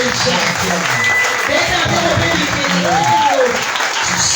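A church congregation applauding and acclaiming God during a worship service, with sustained, loud clapping that carries voices and cries above it.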